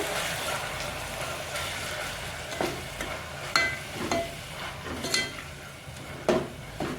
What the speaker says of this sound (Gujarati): અને આદુ લસણની પેસ્ટ નાખી દઈશું અંદર. અને આપણે એને મિક્સ કરી લઈશું આ રીતે.